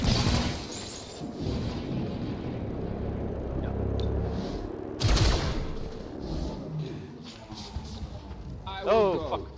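Weapon fire and impacts in the video game XCOM Chimera Squad sound as bursts and crashing shots, loud around the middle, amid rumbling game noise and a brief voice near the end.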